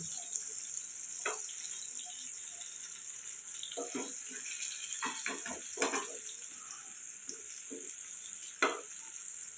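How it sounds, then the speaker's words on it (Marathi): Pomfret fish frying in oil in a pan over a medium gas flame gives a steady hissing sizzle, broken by a few small pops and soft clinks close by. "आता ह्याला चांगलं फ्राय करून घ्यायचे गॅस मिडियम ठेवायचं आहे"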